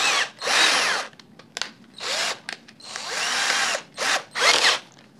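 A power wrench fitted with a socket adapter whirs in several loud bursts of varying length, close up, separated by short pauses.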